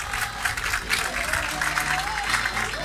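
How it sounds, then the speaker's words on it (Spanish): Audience applause for a chef at the close of a cooking presentation, a steady dense clatter of clapping lasting the whole stretch with a faint tonal sound rising in the middle. "Más fuerte los aplausos"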